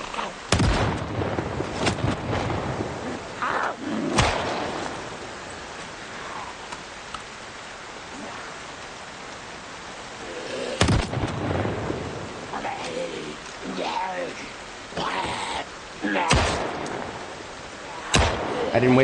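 Shotgun blasts in Project Zomboid, a handful of heavy booming shots spaced several seconds apart over a rumbling, rain-like background, with a person talking between the blasts.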